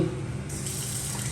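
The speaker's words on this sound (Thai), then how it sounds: "น้ำไหลแรง" Water gushes strongly from a tap in a resort guest bathroom near Ao Khung Kraben, Chanthaburi, a steady, close, hissing rush that stays even throughout with no voices.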